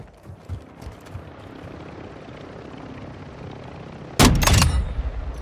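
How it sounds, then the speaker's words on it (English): Helicopter in the video game DMZ, a steady rotor and engine drone held under the action for several seconds before a sudden loud burst near the end, likely gunfire. "Helicopter."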